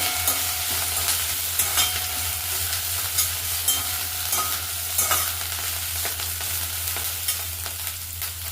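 Ingredients for mint pulao frying in a pan, a continuous sizzle with a low steady hum and light stirring clinks, close up and without speech.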